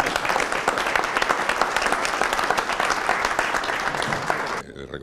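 An award ceremony audience applauds steadily, dense clapping filling the room for several seconds before it cuts off abruptly near the end.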